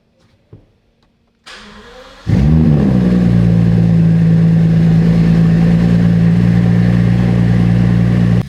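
A Bentley Wraith being rebuilt after a crash cranks briefly, then fires into a loud, steady idle with a deep, even hum that carries on to the end, with no talking over it.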